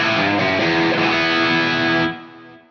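Distorted electric guitar through a Marshall JCM 800 amp chugs a dense, loud riff, then cuts off and rings out briefly.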